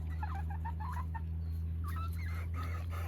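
Six backyard chickens in a coop clucking and murmuring in short, soft calls, heard over a constant low electrical hum.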